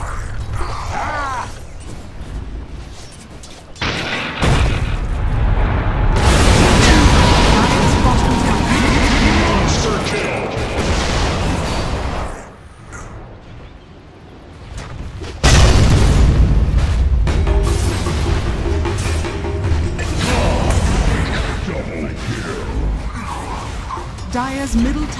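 Shadow Fiend's ultimate in Dota 2 cast twice with Refresher Orb, two loud booming blasts with crackling, rumbling tails, separated by a quieter gap of game noise, close and forceful.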